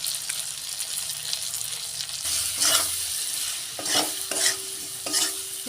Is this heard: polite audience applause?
no